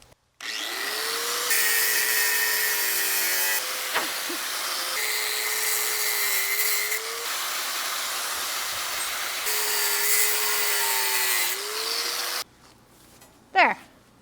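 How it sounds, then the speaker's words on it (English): A grinder wheel cuts steel in a loud, steady whining grind lasting about twelve seconds with small shifts in pitch, followed by a brief clatter. "you nick it with the grinder wheel, and then you can cut it from there."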